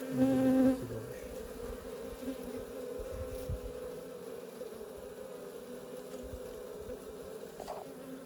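Honeybees buzz steadily at a hive in cool weather, a continuous close drone with a louder burst at the start, then an even hum throughout.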